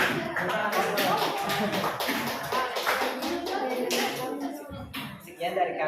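A classroom group of students claps for the sixth presentation group. The close, irregular hand claps and taps are scattered at first, then thin out, with some children's voices and shuffling mixed in.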